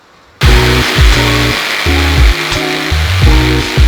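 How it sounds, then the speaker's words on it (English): A wood router whines at high speed, cutting bow-tie insets into wood in a series of loud, close bursts with brief dips between passes, pitch dropping and rising as the bit bites in. "While I've got the router out, I can cut in the insets for the bow ties"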